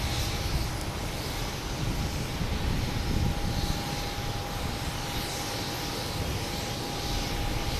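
A United Airlines airliner departing Boston Logan for Chicago produces a steady, fairly distant jet engine roar with a faint whining tone, continuous and without talk.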